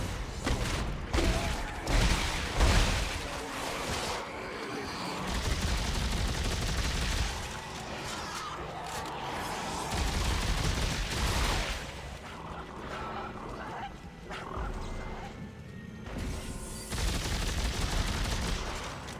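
Gunfire in the sci-fi horror game Dead Space 3, with repeated bursts and heavy blasts over a tense, rumbling background and a faint voice at times.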